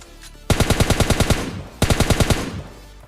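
Automatic gunfire in the video game PUBG comes as two quick bursts of about eight and six rapid, loud shots, close and punchy, with a short gap between them.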